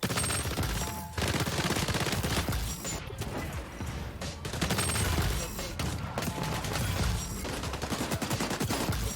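Sniper rifle shots in Call of Duty, loud repeated cracks firing in quick succession amid a dense barrage of gunfire and explosions, with no talking.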